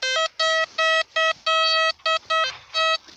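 Metal detector signal tone sounding over a buried target in a farm field: a series of loud, clear electronic beeps in bursts of uneven length, close up, with no talking.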